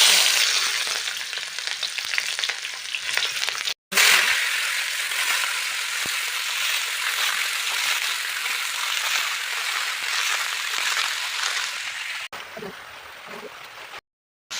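Five-spice seeds and green chillies fry in hot oil in a kadai, a bright crackling sizzle that runs on steadily, broken by a couple of short cuts.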